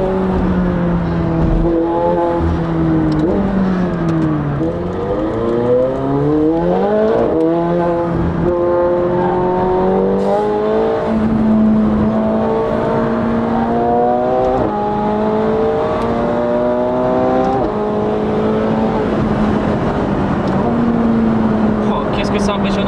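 A McLaren 720S accelerating hard on the Autobahn, its engine note climbing through gears in repeated rising sweeps with brief drops at each shift, loud and continuous from inside the car, with someone talking over it.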